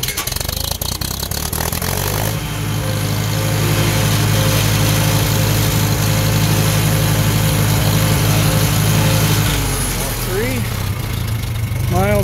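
A Farmall M tractor with an M&W 9-speed transmission runs in first gear, its steady, loud engine drone holding for several seconds before easing off, with someone talking over it at times.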